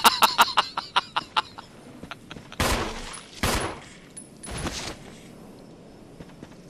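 Gunfire aimed at zombies in the video game Resident Evil HD Remaster: a quick run of sharp shots opens, then a few heavier blasts land at intervals among quieter game noise.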